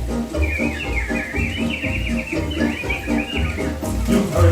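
Steady chirping and whistling bird song from the animated birds of Walt Disney's Enchanted Tiki Room show at Disneyland, over a dense musical background, continuous and fairly loud throughout.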